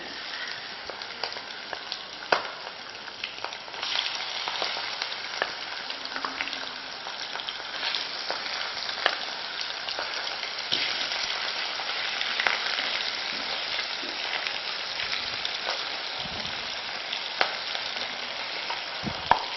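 Fish frying in hot oil for a Kerala meen pollichathu, a steady dense sizzle with crackles and pops, close and loud throughout, with no talking.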